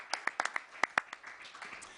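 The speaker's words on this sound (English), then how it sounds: "Let's give him a big round of applause," Sparse, faint handclaps patter irregularly from a small audience at a governor's briefing, a thin scattered round of applause with no voices.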